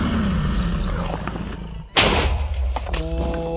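A low thudding boom bursts out midway through ambient game rumble in a Minecraft world, followed by crackling debris and a fading roar, as explosions go off during an Ender Dragon fight.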